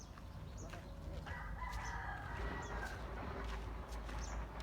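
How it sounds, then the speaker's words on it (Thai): A rooster crows in the distance over quiet outdoor background noise in a Thai village in the early morning, with faint bird chirps scattered around it. "ไก่ ขัน นก ร้อง"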